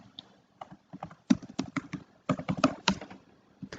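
Rapid bursts of computer keyboard typing as a password is entered, close and crisp with uneven clusters of keystrokes and brief pauses.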